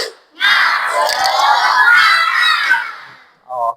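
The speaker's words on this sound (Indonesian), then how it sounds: "Satu kali tepuk semangat." A class of children does a spirit clap and shout when the teacher calls for it: a burst of loud, excited voices shouting together for about three seconds, followed by a brief adult voice.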